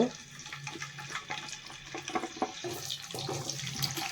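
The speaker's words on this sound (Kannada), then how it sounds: "ಈಗ ಎಣ್ಣೆ ಬಿಸಿ ಆಗಿದೆ ನುಗ್ಗೆಕಾಯಿನ ಇದರಲ್ಲಿ ಫ್ರೈ ಮಾಡ್ಕೋಬೇಕು" Drumstick (moringa) pods frying in hot oil in a pan, a steady loud crackling sizzle with bursts of spattering throughout, heard alone without talk.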